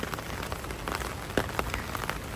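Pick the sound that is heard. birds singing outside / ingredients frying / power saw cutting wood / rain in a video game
rain in a video game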